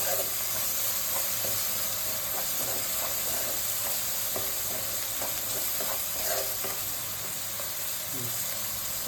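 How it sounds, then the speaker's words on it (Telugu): Masala of coconut, tomato, green chillies and ginger paste frying in oil in a pan, a steady close sizzle and hiss running throughout with occasional soft stirring scrapes. "ఇది కూడా కొంచెం ఆయిల్ పైకి వచ్చేంత వరకు ఫ్రై చేసుకోవాలి"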